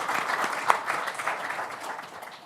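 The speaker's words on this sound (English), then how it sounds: "Give yourself a round of applause." Audience of executive MBA students clapping at a business school opening event, a dense sustained patter of many hands with a few louder claps, fading slightly toward the end.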